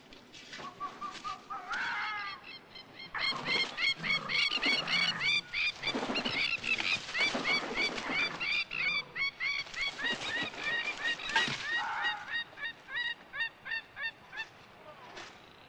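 A bird squawks and honks loudly and repeatedly as a fox catches it, frantic bursts of goose-like cries continuing for many seconds, close and insistent.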